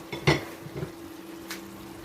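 A metal spoon presses chickpeas in a cooking pot as they lightly roast, giving a few soft clinks and scrapes, one sharper knock near the start, heard close and quiet with no talking.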